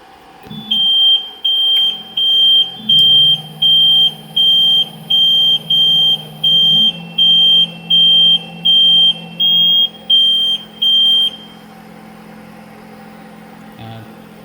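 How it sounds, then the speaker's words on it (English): A melting machine's over-temperature alarm beeps loudly in a steady, evenly spaced series of about a dozen tones over a low mechanical hum, then stops, with no talking. "sensing is over temperature alarm"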